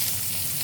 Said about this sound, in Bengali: মাছ ভাজা হবে, কারণ তুমি মাছ ভাজো